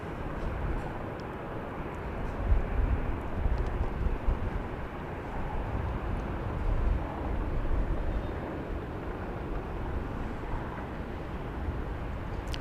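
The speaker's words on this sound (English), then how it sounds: "It's an air evac life team helicopter. So it's another medical helicopter." A Bell 206L4 LongRanger medical helicopter at Dallas Love Field airport, heard as a steady, distant broadband engine and rotor roar that holds fairly even throughout, with no talk over it.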